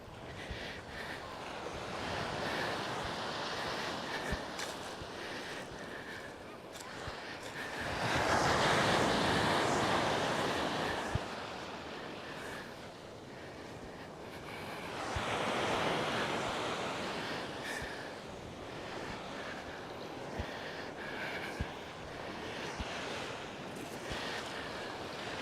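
Ocean waves surge and break on Praia de Lourido beach near Muxía on Galicia's Costa da Morte, Spain, in two louder swells over a constant roar of surf, with wind buffeting the microphone throughout.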